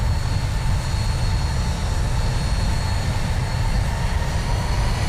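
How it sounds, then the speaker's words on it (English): Steady, dense engine roar of a Boeing 737's jet engines in the X-Plane 11 flight simulator, a constant broadband drone with no pauses and no talking. "The engine seems to be picking up nicely, keeping the speed up."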